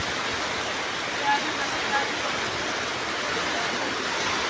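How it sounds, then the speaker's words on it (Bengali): A storm with strong wind and heavy rain: a dense, unbroken roar of rushing air and pouring water, loud and even, with a couple of faint gust swells. "বৃষ্টি আর বাতাস সমানে একবারে"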